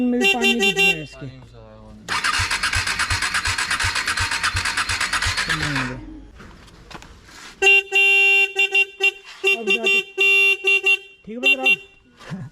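The horn of a KTM Duke 250 motorcycle with water inside sounds in several bursts, first a short bleat, then a long rough rasping honk, then a run of choppy toots, loud and close.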